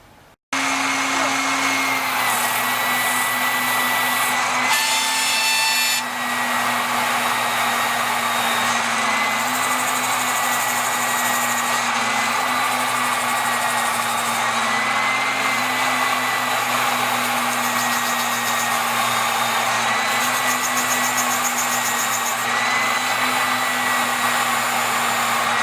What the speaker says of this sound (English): I've got a crankshaft polisher, and I'll run a quick polish on the main shaft